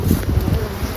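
Honey bees buzz around an open hive box during a strong nectar flow, a steady close drone with no talking.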